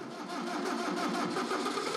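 A 1908 Brouhot two-horsepower petroleum engine starts up, a rough mid-pitched mechanical chugging that rises slightly and settles into a steady running drone.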